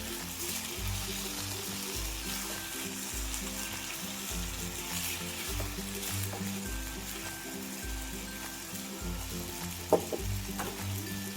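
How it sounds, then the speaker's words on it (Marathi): Washed potatoes sautéing in oil for sabudana usal, a steady close sizzle with a repeating low rhythmic pulse beneath, no talking. "आता बटाटे 1 ते 2 मिनिट छान असं तेलामध्ये परतून घ्यायचे आहेत."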